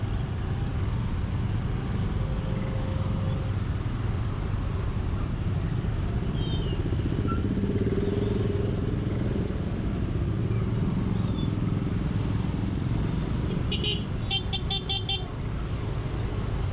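Steady low rumble of idling traffic in a jam on a road between Surabaya and Madura, with a short burst of car horn honks near the end.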